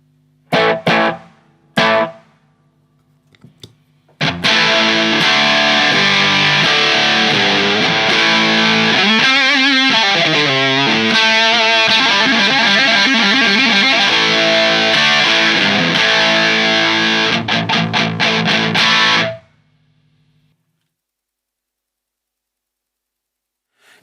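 Electric guitar through a modified Boss DS1 distortion pedal, a few short distorted stabs, then a loud sustained, heavily saturated chord passage ringing for about fifteen seconds before cutting to silence.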